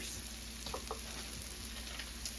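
Steady crackling sizzle of Korean cabbage patties frying in a hot pan, continuous and close, with small pops now and then.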